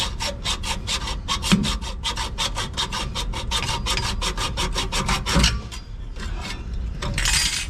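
A hand hacksaw cuts through the bushing of a Jeep TJ lower control arm in steady, rhythmic back-and-forth strokes, close and raspy, with no talking.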